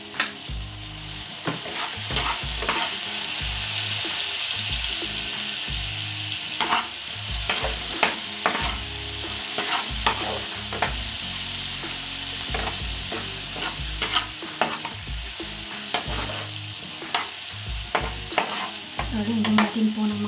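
Garlic fries in a pan for a tuna pasta, with a loud, continuous sizzle and hiss throughout. Repeated stirring clatters are close by, and no voices are heard.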